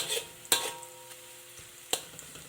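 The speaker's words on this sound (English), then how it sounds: "15 to 20 fenugreek seeds. And stir, stir, stir." About 15 to 20 fenugreek seeds fry in oil for a crayfish curry while being stirred; a soft sizzle runs beneath a few sharp utensil clinks against the pan, with brief gaps between strokes.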